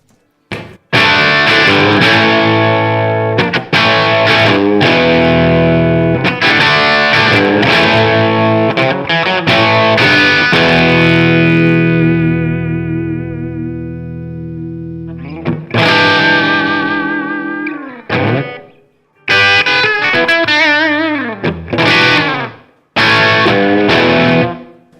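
Electric guitar, a PRS fitted with Gibson 57 Classic pickups, through a driven amp, loud crunchy chords ringing out and decaying, then choppier strummed bursts with short gaps, played alone without talking.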